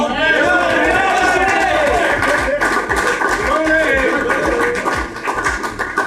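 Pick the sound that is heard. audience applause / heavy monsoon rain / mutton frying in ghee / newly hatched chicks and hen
audience applause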